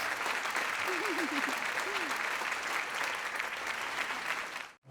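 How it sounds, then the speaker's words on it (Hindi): Girls clap in a group, a steady, fairly distant patter of many hands that runs for several seconds and stops abruptly near the end, with a voice briefly heard partway through. "लड़कियां इसके लिए ताली बजा रही हैं बॉस।"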